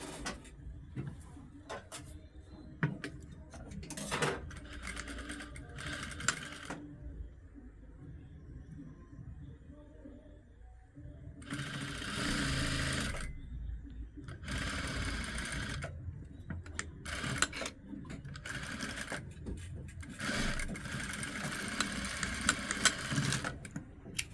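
A sewing machine stitches the inner side seams of a baby's party frock, running in repeated whirring bursts separated by short pauses, close and fairly loud.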